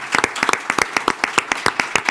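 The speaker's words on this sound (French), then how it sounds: "Applaudissements." A small audience at a civic event in Orléans claps, with distinct, fairly quick individual claps forming an irregular, close rhythm rather than a dense roar.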